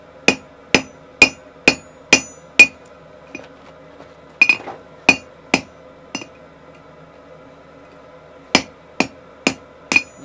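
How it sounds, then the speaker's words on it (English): Steel being forged with a hammer against a round die on an anvil: sharp, ringing metallic strikes land in a steady rhythm, pause briefly, resume in a few clustered blows, then finish with a final run of evenly spaced hits. "take your round die, if you have one, and start forging down these diagonals here"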